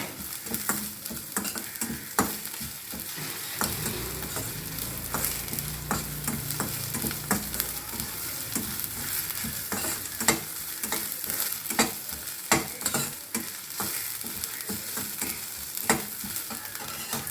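Vegetables sauté in a pan under a continuous sizzle, with frequent quick scrapes and clicks of stirring throughout, close and fairly loud, and no talking.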